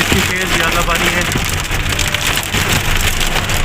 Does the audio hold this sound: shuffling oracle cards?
no